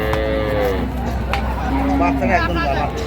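A cow moos loudly and drawn out, followed by another low moo, over a busy cattle market crowd murmur and nearby chatter.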